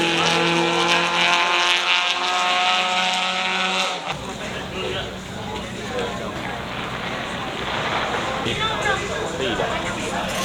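A rear-wheel-drive car sliding on a track: a steady, whining engine tone at first, then it breaks into loud, rough engine and tyre noise that continues close by.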